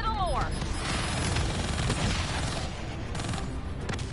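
Continuous gunfire and explosions from a Black Ops 3 campaign firefight, a dense, loud barrage of overlapping shots with a player talking over it.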